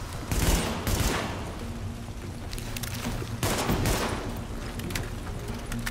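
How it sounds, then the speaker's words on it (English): Gunfire in The Division video game: two loud bursts of shots near the start and another heavy volley around the middle, with sustained rattling fire and a low rumble between them. "Yeah, I'll just shoot it, that's all."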